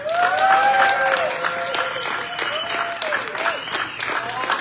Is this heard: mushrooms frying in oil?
no